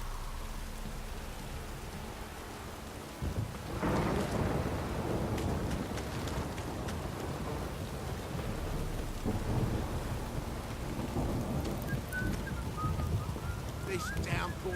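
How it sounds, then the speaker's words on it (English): Heavy rain and rolling thunder in The Witcher 3: Wild Hunt, a dense continuous downpour with low rumbles that swell after a few seconds and stay loud, with a voice speaking briefly. "This downpour's a bastard, it is."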